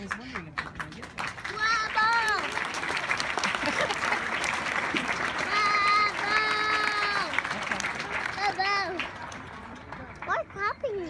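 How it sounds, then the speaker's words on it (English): Applause and clapping from a crowd at a graduation ceremony, a steady rush heard under nearby children's and adults' chatter and sung or drawn-out vocal sounds throughout. "Why clapping, Nina?"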